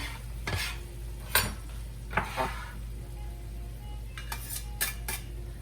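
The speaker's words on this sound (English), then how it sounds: "now it's time to add our tomatoes that I cut up" Chopped tomatoes and basil going into a pot of creamy tomato basil soup, with quiet clinks of a utensil against the pot, soft stirring and a faint sizzle, fairly low in level.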